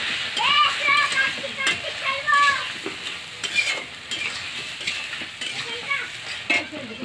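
Food being stirred in a frying pan at home, with repeated scraping strokes and a steady sizzle while a person talks over it.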